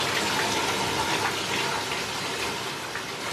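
Water flowing and bubbling steadily in a natural pond fed by a pump and biofilter, a continuous broadband gush close by with no talking.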